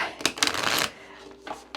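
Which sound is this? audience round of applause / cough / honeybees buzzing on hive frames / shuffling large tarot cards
shuffling large tarot cards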